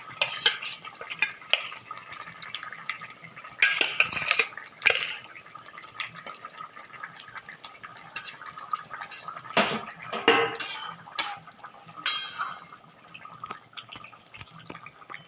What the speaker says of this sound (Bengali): এবার আমি ঝোলের মধ্যে মাছগুলো দিয়ে দেবো এক এক করে